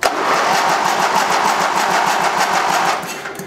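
A small Gilson engine fires up and runs loud and close, a steady buzzy mechanical drone with fast rhythmic firing pulses that holds throughout before fading slightly at the end.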